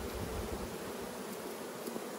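Swarm of honey bees buzzing thickly around an open hive during a winter honey harvest, a steady close drone filling the whole stretch with no voices.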